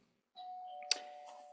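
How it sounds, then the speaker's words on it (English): A doorbell chime rings out from a quiet room, a sustained electronic tone with a brief sharp click partway through, then fading. "Now that's the doorbell, so I'm gonna have to go and press pause."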